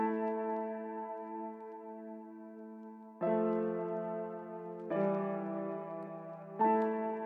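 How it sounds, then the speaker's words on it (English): Quiet piano plays a slow progression of sustained chords with EQ applied, four chords struck at intervals, each ringing out and fading, no voices. "And with the EQ on, it sounds like this."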